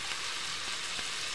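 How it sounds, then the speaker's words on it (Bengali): Chicken pieces sizzling as they go into fried masala for a Bengali deshi chicken kosha curry, a steady soft frying hiss with faint stirring, heard alone and fairly quiet. "মশলাটা আমার কষা হয়ে গেছে, আমি এখন মাংসটা দিয়ে নেব"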